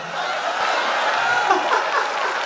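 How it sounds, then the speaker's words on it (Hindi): A short burst of audience applause at a Hindi poetry recital, with scattered clapping and a few chuckles mixed into the crowd noise. "अभी तालियां"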